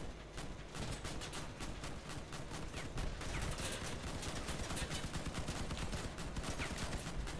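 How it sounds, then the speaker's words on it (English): Enemy machine guns rattle in dense, continuous bursts during a vehicle battle in a video game, a loud unbroken stream of rapid gunfire filling the whole stretch with no voices over it. "He's straight coming for me with his machine guns."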